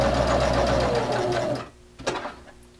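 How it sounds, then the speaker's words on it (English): A sewing machine stitches fabric at close range in a fast, even whir that runs for about a second and a half, then stops, followed by a brief mechanical click. "slide it in the machine, and I'm going to stitch to the corner"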